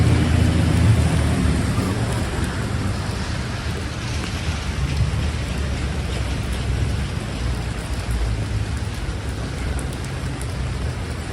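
Steady heavy rain pours down in New York City during a thunderstorm, a dense continuous hiss with low rumbling underneath, loud and unbroken throughout with no voices.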